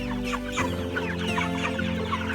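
A flock of Cornish meat chickens clucks in busy, overlapping chatter near at hand over a low steady background hum, with no talk.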